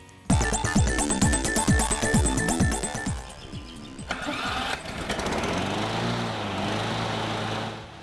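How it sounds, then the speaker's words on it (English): A gas lawn mower engine sputters in quick rhythmic bursts as it starts, then settles into a steady, loud running drone with a rising and falling pitch. "get ready to put away your old lawnmower"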